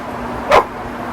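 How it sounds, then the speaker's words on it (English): A puppy lets out one short, sharp bark at moderate distance, a single brief yip over a steady indoor background hum. "My puppy's barking."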